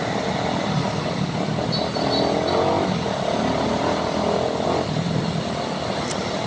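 A Yamaha Sniper motorcycle engine runs at speed on a road, a loud, steady drone with a tone that rises and falls, heard alone with no talking.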